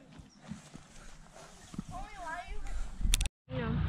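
Horse on a riding outing in Nampa, Idaho: soft hoof clops and a brief whinny rise out of the background, close by and partly under people talking.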